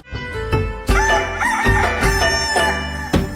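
A fighting rooster crows over tuneful music, with a loud, drawn-out cock-a-doodle-doo and clucking calls repeating through the short stretch.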